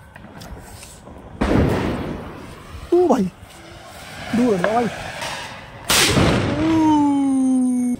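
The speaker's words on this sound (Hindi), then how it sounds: "चलो गाइस अब चलाएंगे एक पटाखा, टेस्ट करते हैं कैसा आया पटाखा।" Diwali firecrackers go off outdoors with two loud, sharp bangs and whistling, warbling tones in between and after. People talk and shout excitedly around the blasts.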